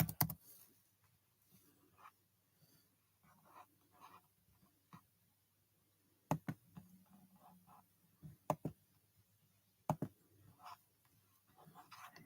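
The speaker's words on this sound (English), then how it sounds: "I'm just typing something in here." Soft, close keystrokes on a computer keyboard come in scattered bursts of clicks with quiet pauses between them, and a few sharper taps stand out.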